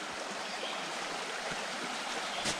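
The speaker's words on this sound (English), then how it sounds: "Water's flowing real nice." A mountain stream in the Appalachians flows with a soft, steady, close babble of running water, fairly quiet and without voices.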